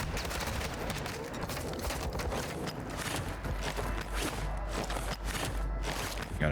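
Shotgun blasts ring out in the DMZ video game: a string of sharp, loud reports with mechanical clatter and footstep-like sounds between them.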